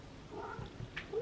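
A house cat gives a faint, brief meow with a slight upward lilt near the end, heard softly against a quiet indoor background.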